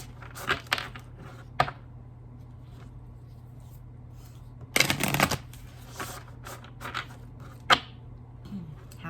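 Tarot cards being shuffled in a few quick riffling bursts, with a longer dense flurry midway and sharper isolated snaps between, close and fairly quiet with no talking.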